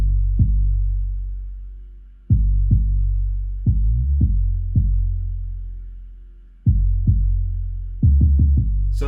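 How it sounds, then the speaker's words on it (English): Roland TR-808 bass drum in a hip-hop beat: deep, booming low notes with long decaying sustains, hit in a sparse, syncopated pattern and then a quick cluster of rapid hits near the end, loud and alone. "so this is what the 808 sounds like"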